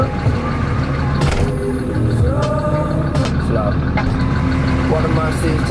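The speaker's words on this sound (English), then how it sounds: "Like being able to sit here and let this thing idle with the AC on" A Cummins-swapped truck idles with the air conditioning running, a steady low engine rumble and blower hum filling the cab while someone talks over it.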